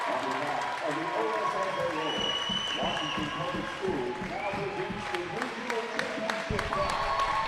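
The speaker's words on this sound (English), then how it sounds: "there's a great round of applause as Brock Rumor gets the trophy" Applause from a crowd at a 3A regional basketball game as the Kingston Redskins receive their trophy, a steady broadband rush of clapping lasting throughout, mixed with crowd noise and voices.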